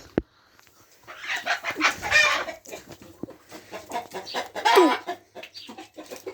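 Chickens cluck and squawk in bursts close by, a busy run of calls with a brief quiet start, and no talking.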